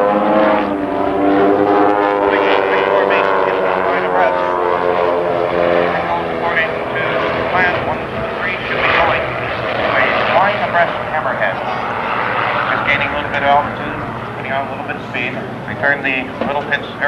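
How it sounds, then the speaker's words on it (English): A Pitts S2S aerobatic biplane with a 260-horsepower engine, performing loops at a 1982 air show in London, Ontario, gives a loud droning propeller roar that rises and falls as it manoeuvres, heard under a commentator's continuous talk. "Turn the little Pitts aircraft out there."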